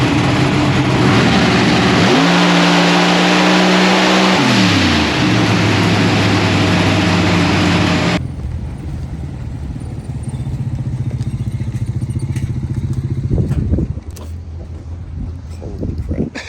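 Race car at a test track accelerating hard, its loud engine note climbing steadily in pitch, then easing to a lower steady drone with some clatter, close and dominant throughout.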